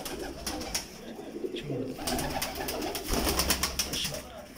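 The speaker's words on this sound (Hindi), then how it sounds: "ये हमारे गोल्डन कबूतर हैं" Golden pigeons coo in repeated soft, throaty phrases close by, layered with rustling and faint background chatter from a breeder's loft.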